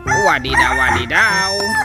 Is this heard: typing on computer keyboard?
no